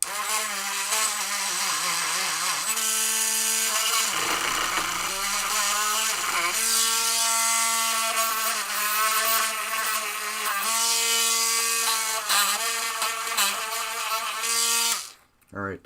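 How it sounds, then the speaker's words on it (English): A small Dremel rotary tool cleans the inside of pinball light sockets, whining loud and close with a steady high-pitched tone whose pitch dips and rises as it bites, then cuts off sharply at the end. "Now I'm going to go through with my little Dremel and clean the inside of the socket."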